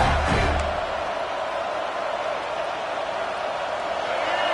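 A football stadium crowd keeps up a loud, sustained roar of cheering throughout, with a brief low thump near the start.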